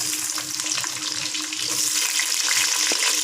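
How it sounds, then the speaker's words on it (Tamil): Sliced onions and dried chillies frying in hot oil for a sardine curry, a dense, loud, continuous sizzle with crackling pops and light stirring, close up and without any voices. "இப்போ நான் வெங்காயத்தை போடுறேன்"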